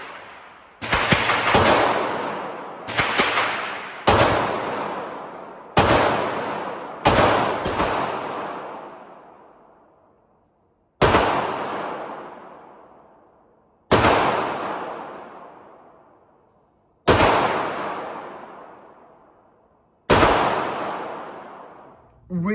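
A Walther P99 pistol is fired at an outdoor range: loud, close single shots in an uneven series, some in quick pairs and others spaced several seconds apart, each followed by a long echoing decay.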